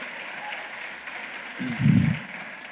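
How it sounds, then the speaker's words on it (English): Applause from a graduation ceremony audience swells briefly after a speaker's pause, a loud burst of clapping near the end that rises and fades within about a second, with a voice speaking before it. "That deserves another round of applause."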